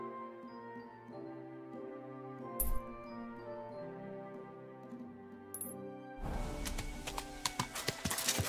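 Horse hooves clip-clop in a steady rhythm over soft background music in the video game Kingdom Come: Deliverance II, with a couple of sharp bursts and busier, louder noise near the end.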